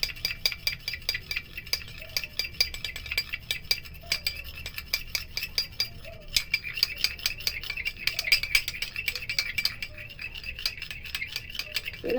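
Homemade cream of rice water, vitamin E and aloe vera being stirred in a bowl, with steady close clinking and scraping of a spoon repeating in quick rhythm throughout.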